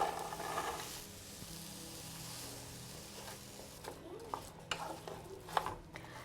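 Vegan grounds and onions frying over high heat in vegan butter and oil, a soft steady sizzle with scraping stirs of a utensil in the pan growing sharper toward the end.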